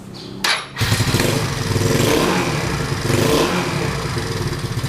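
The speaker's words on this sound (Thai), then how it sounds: "นี่เป็นการสตาร์ทเครื่องครั้งแรกนะครับ" A small automatic motorcycle engine starts for the first time with a brief crank, then catches and settles into a loud, steady idle with slight revving, heard up close.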